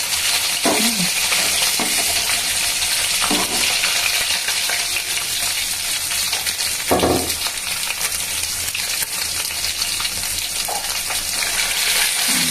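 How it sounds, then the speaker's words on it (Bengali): Katla fish pieces frying in hot oil, a steady loud sizzle filling the whole stretch, with a few scraping stirs and clinks of a utensil in the pan. "ভালো করে ভাজলে মানে লাল করে ভেজে নিচ্ছি"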